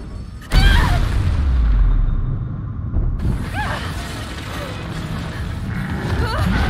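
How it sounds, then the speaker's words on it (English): A sudden heavy boom hits, followed by rumbling, creaking and mechanical rattling from ongoing explosions and effects in Resident Evil 3 Remake, loud and close. "There's explosions everywhere right now."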